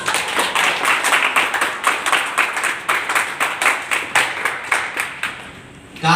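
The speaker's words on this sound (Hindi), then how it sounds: "जो नहीं बनाया उनके लिए जोरदार ताली होनी चाहिए।" Loud, steady clapping from a meeting audience, dense and rhythmic with regular beats, continuing for several seconds with no talk over it.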